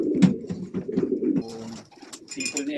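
Racing pigeons coo softly and repeatedly inside a loft, their low throaty calls close by, with some background voices and movement toward the end.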